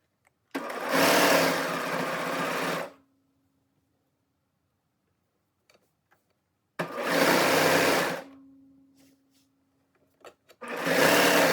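Sewing machine stitching fabric for a snap placket, two loud close runs of steady whirring with a silent pause between, then a third burst starting at the end.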